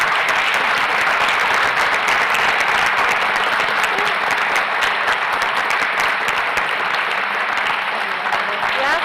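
Loud, sustained audience applause and cheering for panelists at an evening event on Palestine, a thick wash of clapping from a large crowd that carries on without a break, with voices mixed in.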